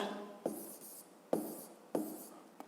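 Short, scratchy pen or pencil strokes write numbers on paper, with three distinct quiet marks close by in a silent room.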